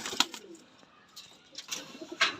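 Healthy pigeons of a single breed kept by a breeder coo in soft, rounded calls spaced through the moment, close by, with a few sharper chirps and wing rustles in a quiet room.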